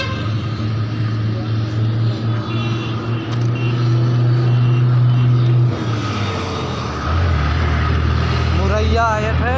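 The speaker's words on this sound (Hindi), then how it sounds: "यहाँ पर बहुत ट्रैफिक होता है यार" Busy road traffic with a heavy engine rumbling close by, then shifting as vehicles pass; a loud, continuous drone with no clear reversing beeps.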